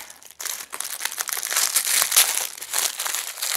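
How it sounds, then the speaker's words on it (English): Paper crinkles and rustles as a carefully wrapped Chanel bag is unwrapped, close and continuous after a brief quiet start, with sharper crumpling bursts in the middle. "Let's go ahead and unwrap."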